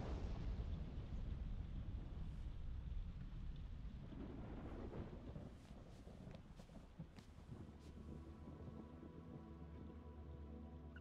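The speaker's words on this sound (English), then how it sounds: "Oh, it's raining again" Heavy rain hisses steadily with deep rumbling thunder rolling through in Yakuza Kiwami, the roar swelling early then easing into a quieter patter with low background music, no talk.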